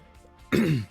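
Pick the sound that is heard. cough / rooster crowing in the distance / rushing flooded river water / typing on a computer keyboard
cough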